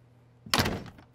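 A door thuds shut as someone walks out, one solid close slam with a short rattling tail, after a quiet low hum.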